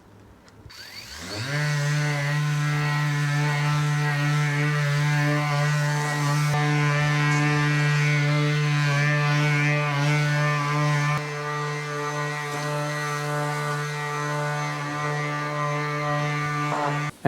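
An electric sander with a 600-grit interface pad works a car headlight, a steady mechanical whine with strong harmonic hum that starts abruptly, runs evenly and near for about fifteen seconds, then cuts off.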